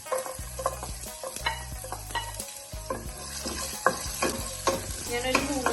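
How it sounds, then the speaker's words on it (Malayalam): Ginger and garlic frying in hot oil in a pan, a steady close sizzle broken by repeated stirring scrapes and clinks of a utensil against the pan, with no talking. "ചൂടായി വരുമ്പോൾ നമുക്ക് ഇഞ്ചി, വെളുത്തുള്ളി ആഡ് ചെയ്ത് കൊടുക്കാം."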